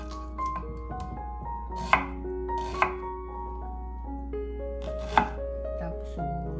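Four garlic cloves minced with a knife on a board for Filipino fish in ginger soup: a few sharp, separate chops spaced a second or so apart over a steady low background hum, with no talking.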